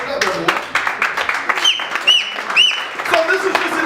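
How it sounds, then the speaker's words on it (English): Audience applause at an award ceremony presenting the Jackie Robinson Fortitude Award, a steady patter of clapping running the whole time with voices mixed in. "Clap it up, everyone."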